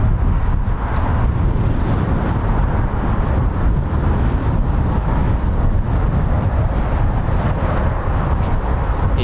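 Brutal cold wind gusts across an outdoor military airfield, a loud, steady rumbling roar buffeting the microphone throughout, with no talk.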